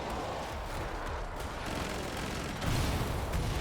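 The Firebug flame weapon in Killing Floor 2 fires in a dense, continuous roaring hiss with a heavier rumbling thump near the end, loud and near.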